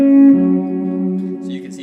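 Slow electric guitar lick with string skipping and a half-step bend up to D; sustained, ringing notes stand alone, with a strong held note at the start that gradually fades.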